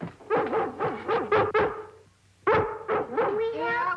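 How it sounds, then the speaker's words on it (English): A dog barks repeatedly in quick bursts indoors, a run of five or six loud yapping barks, a brief pause, then another volley with whining, close and prominent. "I wish you'd try and stop that dog from barking."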